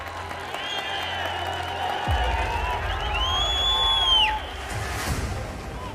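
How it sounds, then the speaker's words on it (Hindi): Audience clapping and cheering at a live poetry and speech concert in Ujjain, a broad crowd wash with whoops and a rising whistle-like tone over it, loud and sustained throughout. "आपकी तालियां बता रही है"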